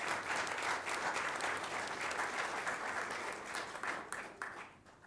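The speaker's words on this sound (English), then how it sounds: "Round of applause." Audience applause at a school district recognition meeting, a dense sustained burst of many hands clapping that holds steady and fades out at the end.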